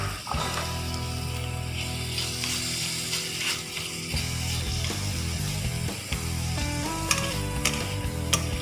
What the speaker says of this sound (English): So now, I will add the shrimp